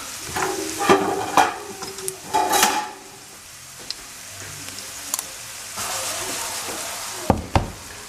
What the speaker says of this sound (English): So it's simmering away.